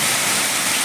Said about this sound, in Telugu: ఇంత ఘోరంగా ఉన్నది వర్షం.